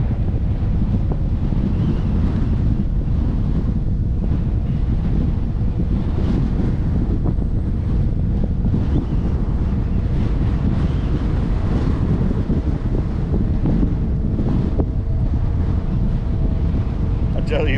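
Steady headwind roaring across the microphone while riding an electric-assist bicycle on the Shark Valley trail in the Everglades, a constant loud low rumble and buffeting for the whole stretch with no speech over it.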